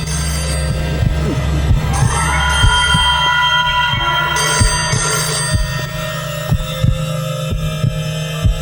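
A telephone rings loudly and continuously for several seconds over a steady low hum and throbbing pulses, with no talking.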